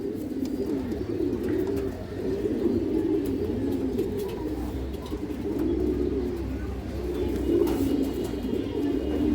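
Giribaz pigeons coo steadily, a dense layer of low warbling calls from several birds close by, with no talk.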